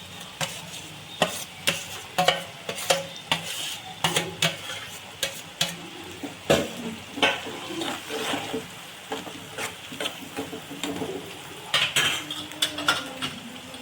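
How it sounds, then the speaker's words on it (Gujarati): Tomatoes stirred into frying onions in a pan, repeated clanks and scrapes of a metal spoon against the pan in an irregular rhythm over a steady low sizzle, close by. "હવે નાખી ટમેટા."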